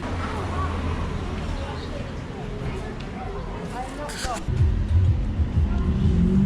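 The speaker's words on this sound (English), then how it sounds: "You'll have to forgive the noise from the traffic." Road traffic rumbles through the Barbican harbour area of Plymouth as a continuous low drone, with a nearby vehicle growing louder toward the end, under someone speaking.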